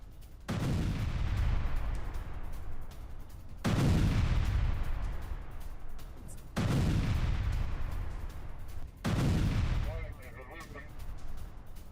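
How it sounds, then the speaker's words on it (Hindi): Russian FAB-1500 guided bomb blasts in news footage: four heavy, booming explosions in a row, each a loud sudden impact with a long rumbling decay, evenly spaced about three seconds apart. "तीसरी बार फैब 1500 बॉम्ब का इस्तेमाल किया गया। रूस का सबसे घातक गाइडेड बॉम्ब है फैब 1500।"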